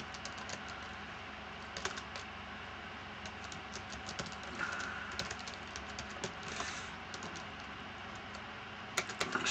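Computer keyboard typing runs steadily throughout, a dense patter of quick keystrokes with occasional louder clacks, fairly close and without talk.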